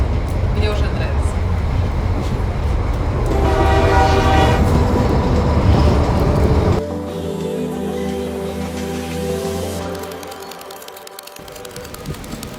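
A train on the line up to the Zugspitze, Germany's highest peak, rumbles loudly and nearby with rolling clatter before the sound shifts and thins into a quieter, steadier interior hum. Voices can be heard alongside it.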